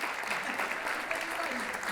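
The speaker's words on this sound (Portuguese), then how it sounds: "Palmas para você." Steady applause from an audience at a lecture event fills the moment, fairly soft and distant, with a murmur of voices underneath the dense clapping.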